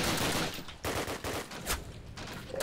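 Rifle gunfire in the World War II shooter Call of Duty: United Offensive during a team deathmatch: several sharp, loud shots and short bursts in quick irregular succession, close by, with no talk.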